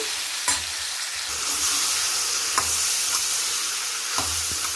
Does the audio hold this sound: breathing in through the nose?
no